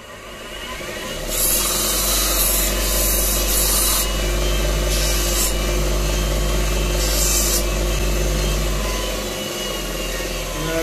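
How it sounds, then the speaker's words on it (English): A power sander runs steadily against a handmade metal shoto lightsaber part, giving a loud continuous whirring drone with bursts of harsh abrasive hiss as it grinds the surface smooth. "I'm just going to give this a quick sand just to make sure it's all smooth"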